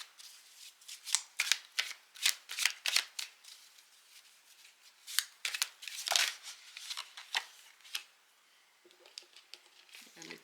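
Oracle cards being shuffled and turned over for a tarot-style reading, a run of quick papery riffles and slaps in uneven bursts, close and crisp, with a short pause before a few softer flicks at the end.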